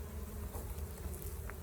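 Honey bees buzz steadily around a honey extraction, a dense low hum with faint scattered wing whines close by, no voices.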